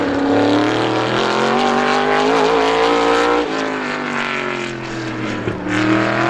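An ISMA supermodified race car takes the green flag at Star Speedway, its engine roaring loud and near as it revs up and climbs in pitch, with a brief dip and shift change partway through.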